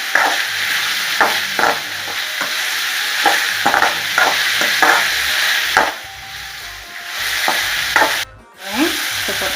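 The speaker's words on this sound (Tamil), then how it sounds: "இந்த மாதிரி தனித்தனியாக வறுக்கணும்" Spicy tomato chutney ingredients fry separately in a hot pan, a steady close sizzle broken by repeated scraping stirs and a brief pause near the end; no talking.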